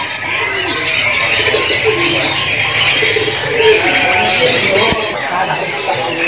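Many caged songbirds chirp and trill at once in a dense, busy chorus inside a bird shop, with people talking nearby underneath.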